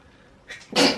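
A short, sharp sneeze bursts out close by after a faint intake of breath, loud and sudden.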